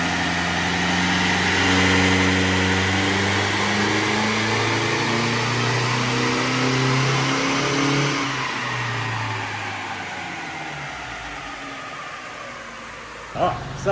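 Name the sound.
Toyota N80 Hilux 48V engine revving on dyno, 3-inch exhaust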